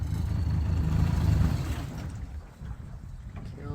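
Jet sled boat engine running on the water, a loud low rumble for the first second and a half that then drops away to a quieter idle and water wash.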